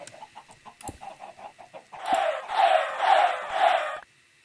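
Chickens in a Minecraft-style video game egg farm cluck in a quick run of short, repeated calls, then give four louder, sustained bursts in steady succession, with no talking.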